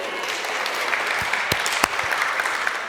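Live audience applauding and cheering at an album launch in Ealing, London, a crowd that includes runners; steady, dense clapping throughout with a few sharper claps standing out.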